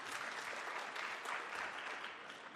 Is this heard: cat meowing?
no